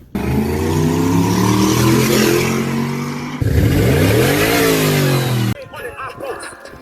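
A homemade car built from a kids' ATV revs its small engine hard, the pitch climbing and falling through two strong pulls before cutting off abruptly, with brief faint sounds after.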